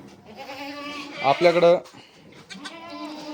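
Goats on a farm bleating in short wavering calls, fairly close and mixed with someone talking over them.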